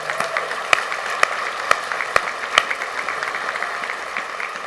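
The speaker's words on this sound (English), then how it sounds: "Can you give them a big round of applause?" An audience at a summit welcome applauds the Garden School Foundation of Los Angeles, a steady wash of clapping with a few sharp nearby claps standing out.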